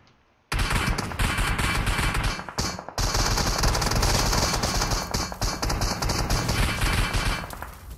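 Sustained automatic gunfire in a video game, dense rapid bursts loud and continuous after a short quiet start, with a brief pause midway before the firing resumes.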